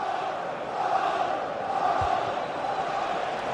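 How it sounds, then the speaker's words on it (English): Stadium crowd noise from a football video game, a steady dense roar of massed fans cheering throughout, with a commentator speaking over it. "Well, the crowd are doing their bit."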